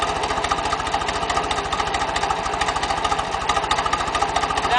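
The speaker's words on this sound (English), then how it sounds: "I know everybody's dying to see Mr. McCullum on a tractor" A tractor engine runs steadily nearby, a loud rhythmic low chugging with a constant mechanical clatter and no talk over it.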